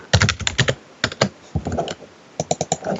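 A folder name is typed on a computer keyboard in quick bursts of sharp, close key clicks with short pauses between the groups, loud and alone with no talking.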